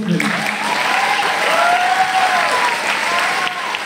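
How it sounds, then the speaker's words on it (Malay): A school open-day audience gives loud, sustained applause, a thick continuous roar of clapping with a faint tonal voice or whistle drifting through it. "saya nak awak semua berikan tepukan yang gemuruh"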